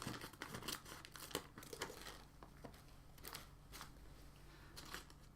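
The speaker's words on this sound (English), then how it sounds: "I'm going to use scissors for this just in case" Scissors snip through a plastic bag of wine yeast, producing faint, close crinkling and crackling with a few sharp cuts spread unevenly across a quiet indoor room.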